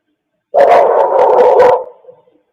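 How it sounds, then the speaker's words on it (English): A single dog gives a drawn-out, howling bark that rises sharply and trails off, loud and close, in camera footage linked to the Idaho student murders case. "That sounds like a different dog."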